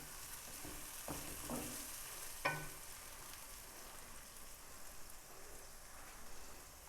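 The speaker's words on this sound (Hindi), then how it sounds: "दो से 3 मिनट इसे मैंने फ्राई किया है। टमाटर सॉफ्ट हो गए हैं।" Tomatoes fry in a pan for a chana curry, a soft, steady sizzle with a couple of brief stirring clinks, heard alone.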